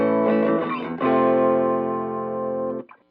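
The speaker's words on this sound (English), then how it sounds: "Now going over the overdrive channel with the pedal switch set to off, there's no overdrive, but if I kick that on" Guitar amplifier on its overdrive channel, a Dumble Overdrive Special clone combo, producing a sustained distorted chord with a rich, buzzing harmonic tone after a few picked notes, ringing out for about two seconds before being cut off.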